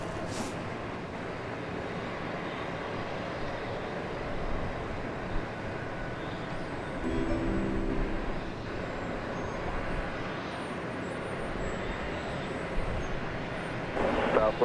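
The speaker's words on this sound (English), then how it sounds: "So the Learjet down at the other end of the runway is now getting ready to take off" A Learjet's jet engines hum at a distance from the far end of the runway as it prepares for takeoff, a steady low rumble with light swells. Faint talk runs under it.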